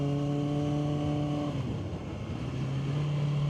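A Kawasaki sport motorcycle with an aftermarket exhaust can idles with a deep, throaty exhaust note, briefly revs and drops, then settles back into a steady low idle.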